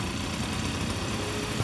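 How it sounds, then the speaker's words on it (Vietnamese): A Roman RM-26 two-stroke gasoline sprayer engine running steadily after a cord-pull start, a continuous close idling drone with low-end vibration and no talk. "giật dây giật cho máy nổ."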